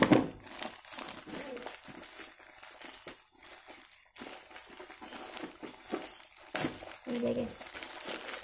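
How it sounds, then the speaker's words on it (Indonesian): Scissors cutting open a plastic package during an unboxing, with close, crisp crinkling and snipping rustles in uneven bursts and a voice talking in between. "Ini kita pakai gunting aja guys ya, biar cepet."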